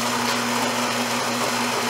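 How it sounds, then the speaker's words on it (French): Built-in grinder of a Philips 3200 or 5400 automatic espresso machine grinding coffee beans, a loud, steady whirring drone heard up close and alone. "le moulin est quand même assez bruyant"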